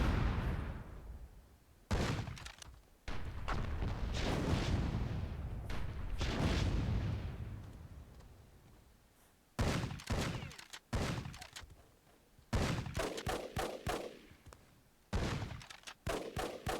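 Turret fire and explosions in Myth II Soulblighter during a WWII-themed tournament match: heavy booms and thunks arrive in clustered volleys, some rapid and stacked, separated by short quiet gaps, loud and close.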